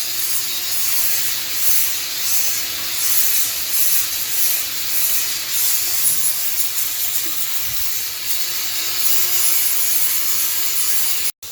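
Steady abrasive rubbing and grinding on the cut steel tubing of a Yamaha XS650 chopper frame being fitted with a hardtail kit, a continuous close hiss with slight surges, alone without talk.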